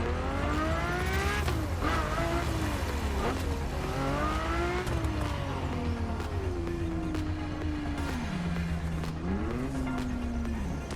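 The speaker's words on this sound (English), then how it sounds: "The car you're about to drive in this opening event is none other than the first Ferrari in the supercar bloodline, the Ferrari GTO." A Ferrari GTO engine in The Crew Motorfest racing game, revving through a run of rising and falling gear sweeps, loud and steady with no talk over it.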